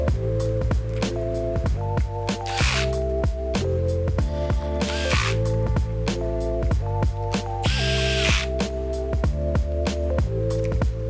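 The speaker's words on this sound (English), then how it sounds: "flip it on its back side and put the screws back into the bottom cover" Repeated whirring bursts of a small screwdriver driving screws into the bottom cover of an HP Chromebook 11 G9 laptop, close up, with short hissy pauses between screws.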